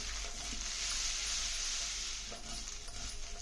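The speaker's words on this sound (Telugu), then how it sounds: "వీటిని ఒక ఐదు నిమిషాలు వేగాలి" Prawns fry in sesame oil with a steady, moderate hiss of sizzling, holding even throughout and joined by a soft clink partway through.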